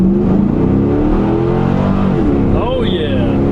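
Stock Chevrolet Camaro Z28 accelerating hard from a stop on the street, a loud engine roar climbing in pitch through the run, heard from inside the car while people talk.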